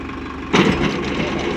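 A Farmtrac 6055 tractor engine runs in gear during a PTO demonstration, a steady mid-pitched drone that surges louder about a third of the way in and holds, close and continuous with no talk.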